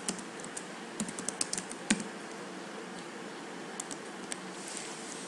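Fingers type on a computer keyboard in a word processor, producing soft, irregular key clicks, faint and close, in an otherwise quiet room.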